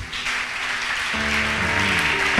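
A church congregation applauds together during a worship service, a dense, steady wash of clapping that swells slightly, with sustained musical tones or singing rising beneath it about halfway through.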